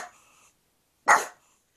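An indoor house dog gives a single short, sharp bark, close and fairly loud, after a moment of faint sound and silence.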